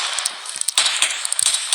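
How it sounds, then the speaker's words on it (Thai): Rapid bursts of video game gunfire crack out in quick, uneven succession: sharp, snappy shots close up against a hissy background. "เสียงปืนบ้าเลยนี่"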